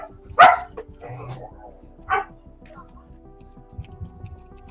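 A dog barks indoors, one loud sharp bark near the start and another about two seconds later, with quieter sounds and faint household noise between.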